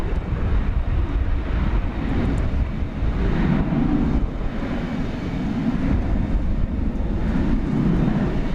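A Finnair airliner moves at DFW Airport, its engines producing a continuous loud roar and rumble heard throughout, steady and fairly close, with no talking.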